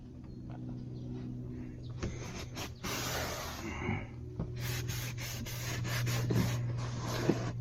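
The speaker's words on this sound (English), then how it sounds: "A little bit of scrubbing" A rag scrubs the floor of a semi truck cab in short rubbing strokes, soft and close, with pauses between bursts of friction.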